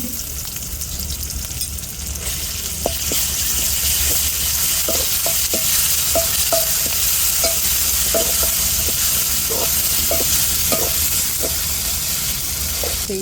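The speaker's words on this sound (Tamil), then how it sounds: "வதக்கிக்கிறோம்" A spatula stirs and sautés in a sizzling pan for a Tamil chicken kuzhambu and liver fry, with steady frying hiss throughout and regular light scraping taps every half second or so, close and fairly loud, no voices.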